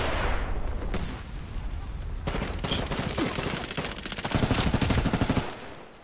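Sustained automatic assault rifle fire in the multiplayer shooter Medal of Honor Warfighter, dense rapid bursts rattling continuously and swelling louder toward the end, close and dominant with no talk.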